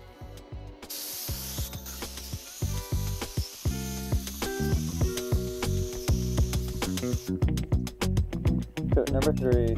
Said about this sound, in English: So now we're ready to go ahead and shoot our clear coat.